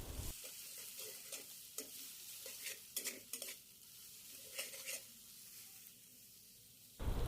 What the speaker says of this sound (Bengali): ডিমটাকে স্ক্রাম্বল করে নেব।